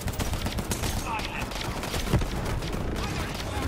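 Gunfire in Borderlands 3 on PS4, a steady busy stream of shots and game effects, fairly loud throughout with a sharper burst partway through.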